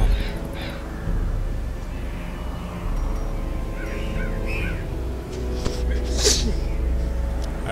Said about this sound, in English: I don't know if you guys heard that, but I sneezed.